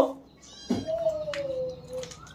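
A cat gives a clear, drawn-out meow close by, with a person's voice speaking briefly just before.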